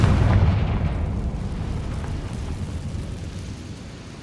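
A Confringo spell from Hogwarts Legacy detonates in a loud, deep blast that rumbles and slowly decays over a few seconds in a mine.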